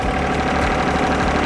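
A John Deere 1025R sub-compact tractor with a quick-park loader runs steadily, its engine droning loud and close with a constant low rumble and slight knocking while the loader bucket is lowered to the ground.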